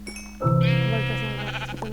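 Sheep bleat in a blocky building game, one long wavering bleat rising loud and close after a brief quiet start, then trailing off with faint background game sounds.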